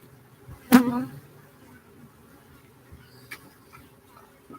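Honey bees buzz at a hive as a faint, steady hum, broken early by one louder, brief sound close to the microphone and a few soft knocks later on.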